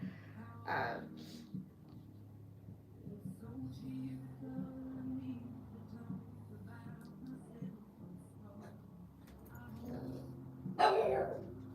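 A dog barks a couple of times in a quiet room while yarn is wound, with one sharp bark near the start and a louder bark near the end, over low steady background hum.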